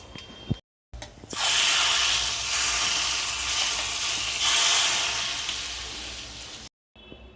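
Tempering for sambar hits the hot pan with a loud, steady sizzle and hiss that holds for several seconds before cutting off abruptly, with short quiet gaps at the start and end.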